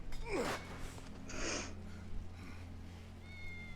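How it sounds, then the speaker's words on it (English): Wedge's calico cat in Final Fantasy 7 Remake lets out a couple of short, strained meows and cries close by, over a steady low in-game hum. "That's Wedge's cat."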